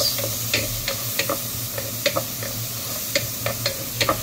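Onions fry in olive oil in a pan, a steady close sizzle broken by repeated sharp scrapes and taps of a spatula stirring them.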